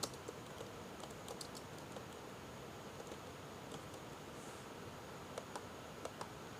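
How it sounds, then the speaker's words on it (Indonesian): Typing on a computer keyboard while entering journal data into MYOB Accounting: a steady patter of soft, close key taps with a few sharper strikes, alone over quiet room noise. "memonya kita ketikkan penyesuaian 7."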